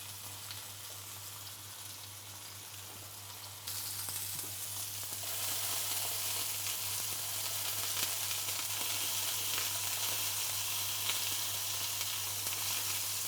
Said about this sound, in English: Just a touch of oil here. Help with the frying process.